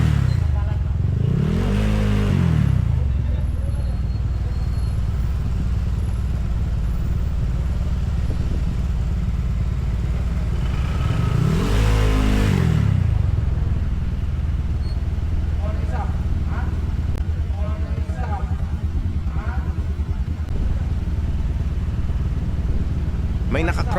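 A loud motorcycle fitted with a JVT version 4 exhaust pipe revs in two big surges, one near the start and another midway, over a constant low engine rumble with steady background noise.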